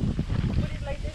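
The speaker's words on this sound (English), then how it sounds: "Oh, it's really windy. Very, very windy." Strong wind buffets the microphone outdoors at a fishing spot, a steady low rumbling roar that stays loud and close throughout.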